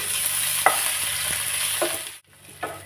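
Grated ginger and chopped green chili fry in a pan with a steady hiss, broken by a few soft scrapes of stirring and a brief lull near the end.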